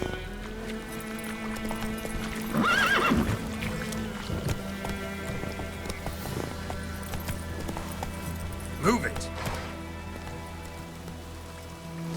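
Hooves of a horse in The Witcher 3 clip-clop steadily over ground amid a constant rain-like wash, with a couple of louder rustling swells and tonal game sounds in the background.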